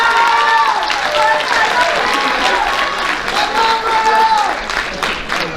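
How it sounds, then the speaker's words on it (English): Close, loud applause fills a school athletic banquet room, dense clapping sustained throughout with some voices and cheers mixed in. "Let's give a round of applause for that."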